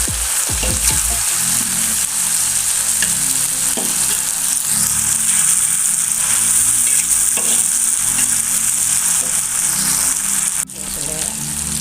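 Tempeh stir-fried in a pan with thinly sliced red and green chilies, bay leaves, lime leaves and lemongrass for a Padang-style dish: steady loud sizzling throughout with scraping stir strokes, ending in a brief drop near the end.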